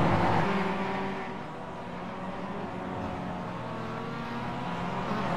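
Race cars in a racing video game roar together in a dense pack, a steady layered engine drone with shifting harmonic tones that dips briefly and then builds again, with no talk over it.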